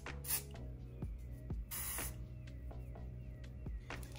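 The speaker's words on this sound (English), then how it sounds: "we're gonna spray our melting spray inside and around" Short hissing bursts of wig melting spray directed inside and around a 24-inch 13x4 HD lace wig, with several close spritzes in an irregular rhythm and soft handling sounds between them.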